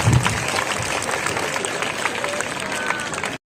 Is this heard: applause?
yes